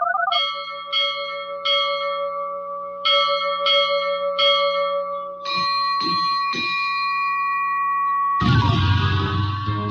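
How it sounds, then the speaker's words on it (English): A ship's bell rings on AM radio in repeated clear strikes, each tone ringing out and overlapping, followed by a brief burst of noisier sound at the end. "Listen to AM 1230 for the ship's bell."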